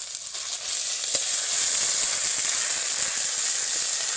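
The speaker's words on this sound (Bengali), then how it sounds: "কড়াইতে দিয়ে দেব সাদা তেল। প্রথমেই দিয়ে দিলাম আদা রসুনের বাটা।" Ginger garlic paste hits hot white oil in a heated wok and sets off a loud, steady hiss that swells within the first second and then holds evenly, with a brief clink early on.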